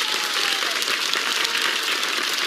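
Studio audience applause on a television show, a dense, even wash of clapping holding steady at moderate loudness throughout.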